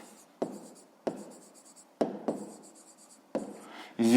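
A pen writes digits on paper in a maths exercise, giving five separate bursts of scratchy strokes spaced about a second apart, close and fairly quiet, with a louder rub at the very end.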